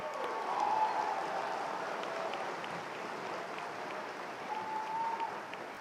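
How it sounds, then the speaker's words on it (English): Steady, sustained applause from a crowd at a fall 2019 college commencement ceremony honoring the graduates, even and continuous throughout with a faint tonal hum in the background. "Can we give them a round of applause?"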